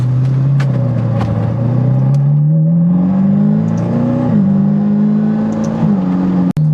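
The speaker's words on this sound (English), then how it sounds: "you do hear quite a lot of hum from that exhaust" Steady low exhaust hum from inside a moving Ferrari, rising slightly in pitch as it drives on, with a brief sharp click near the end.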